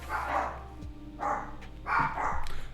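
A dog barks three times in separate, fairly close woofs spaced about a second apart, over a low background hum.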